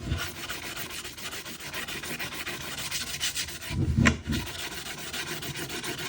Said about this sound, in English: just a light sanding paper will do exactly the same thing